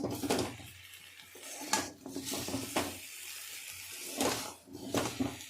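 Papaya morabba being stirred in a pan as the sugar syrup dries out, giving repeated scraping sweeps and soft clinks of a spoon against the pan, close and steady, with a faint sizzle between strokes and no talking.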